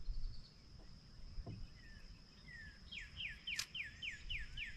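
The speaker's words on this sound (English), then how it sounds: "you can hear that red bird in the background" A northern cardinal sings a series of clear, repeated down-slurred whistles, a rhythmic run of notes at moderate distance over a steady insect drone.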